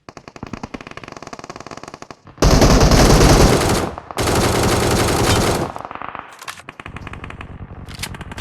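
Automatic rifle fire in PUBG Mobile, two loud sustained bursts of rapid shots with a short gap between them, rising sharply over quieter game sounds.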